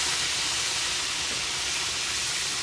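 Pork tenderloin medallions turned over in a hot frying pan, giving a steady, loud broadband sizzle and hiss that runs unbroken throughout with no distinct clatter.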